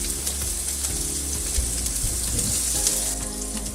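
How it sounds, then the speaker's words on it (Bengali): Steady, dense sizzle of a chicken keema snack frying in a pan on low heat for an iftar recipe, continuous and close with no speech over it. "এটা একটু হালকা আঁচেই ভাজতে হবে, কারণ যেহেতু কিমা দেওয়া আছে"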